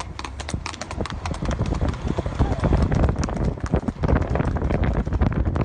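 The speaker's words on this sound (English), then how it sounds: "I love the sound of the horse's hooves on the asphalt." Steady clip-clop of horse hooves on asphalt road, brisk and continuous, with wind noise and faint background voices.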